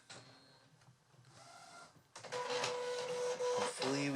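An inkjet printer printing a nozzle check: quiet mechanical clicks and shuffles, then the print head shuttles loudly back and forth with whirring carriage passes and paper feed, close and unaccompanied by talk.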